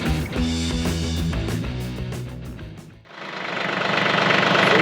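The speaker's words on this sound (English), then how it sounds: "let's get on the tractor and let's go take a ride" A tractor engine starts and settles into a steady, rough running drone that grows louder. It follows a stretch of busy knocking and rattling.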